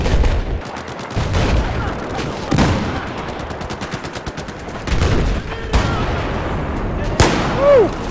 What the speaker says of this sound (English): Shit, they're shooting.